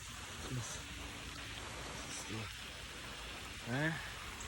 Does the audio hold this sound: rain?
yes